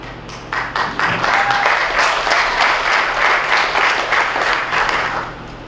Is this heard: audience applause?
yes